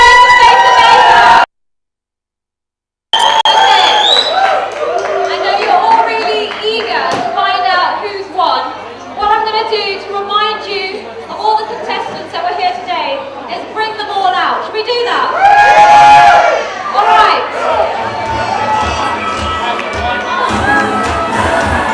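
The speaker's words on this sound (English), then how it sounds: "Come on, make some noise for Face of Asia!" Crowd cheering, whooping and shouting at the Face of Asia British Asian model competition, loud and sustained after a brief silent gap, with chatter and an announcer's voice mixed in.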